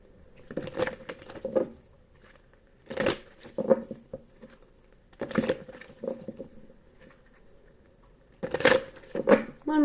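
Tarot cards are shuffled by hand in four separate bursts of quick papery riffling and crisp snapping, close up with quiet gaps between bursts.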